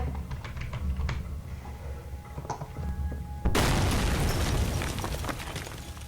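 Scattered clicks and taps give way to a sudden loud explosion partway through, followed by a sustained rumbling, crackling roar, in the horror video game Penumbra.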